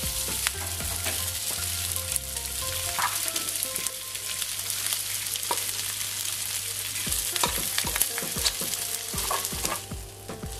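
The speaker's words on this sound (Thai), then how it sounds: "ผัดให้เข้ากันนะครับ" Rice for school-style fried rice sizzles loudly in a wok while a spatula scrapes and clanks against the metal in repeated strokes, steady frying hiss throughout.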